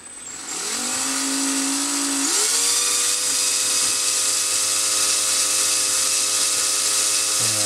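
An electric drill winding wire onto an electromagnet coil for a telegraph sounder: a close whine that revs up in steps, then holds a steady high drone, with faint scraping near the end.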